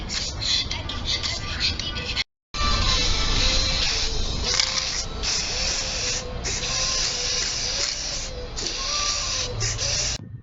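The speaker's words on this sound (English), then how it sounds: "Spray the cans." Aerosol spray paint hisses steadily onto tin cans being made into lanterns, a close, continuous spray with one brief break and faint talk underneath.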